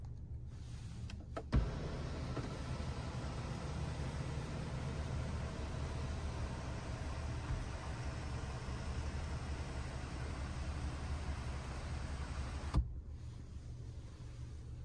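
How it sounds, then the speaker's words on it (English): The panoramic moonroof shade of a 2023 Lexus RX350 slides under power, a steady low motor whir inside the cabin, framed by a soft click at the start and another at the end. "To slide the shade, we'll go ahead and hold down the switch."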